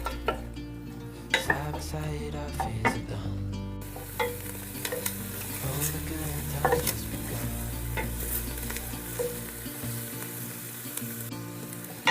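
Onion and butter sizzle and fry in a soup pot on the stove for tomato basil soup, with frequent scrapes and clinks of a utensil stirring against the pot under a steady hiss and faint background music.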